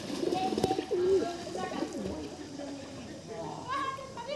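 Domestic pigeons cooing in a loft, soft repeated coos close by, with other birds calling and a voice talking over part of it.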